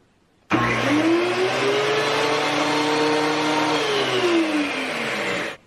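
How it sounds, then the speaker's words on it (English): Several woodshop machines, a circular saw, a planer and a bandsaw, start together and run in a loud steady whine with humming tones that sag slightly near the end before everything cuts off. "Next test, three things, circular saw, planer, plus a bandsaw."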